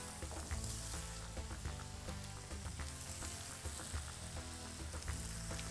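Paprika, onions and fresh tomatoes sizzle in a pan for patatas bravas, a close, continuous frying hiss with occasional soft knocks of a utensil.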